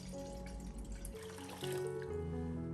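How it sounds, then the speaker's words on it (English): About a liter of water poured into a medium-sized cooking pot, a steady trickling splash that shifts lower in pitch as the pot fills, heard close and alone. "First, I prepare a medium-sized pot and pour in about 1 liter of water."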